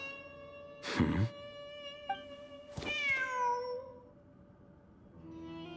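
A cat in the game Genshin Impact, heard as a couple of short, close meows against a quiet background with faint tonal hum, with no talking.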